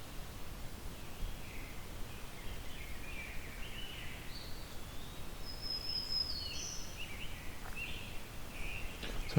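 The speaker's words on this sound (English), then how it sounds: "So I'm hearing black-throated green warbler," A black-throated green warbler sings faint, high, buzzy phrases from some distance in a hollow, repeated over a steady wash of background hiss and rustle.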